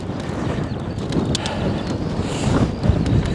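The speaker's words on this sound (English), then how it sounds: "Straight into the wind right now." Gusty wind buffets the microphone with rough low rumbling while mountain biking into the wind on a muddy trail, and faint clopping or crunching sounds come through underneath.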